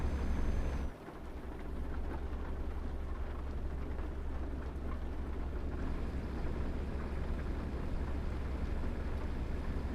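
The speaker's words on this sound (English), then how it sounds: "I love the rain, but am I seriously going to do almost the entire job in the rain?" Steady rain patters in Euro Truck Simulator 2, a constant, even hiss of falling drops over a low, continuous truck engine drone, with no speech.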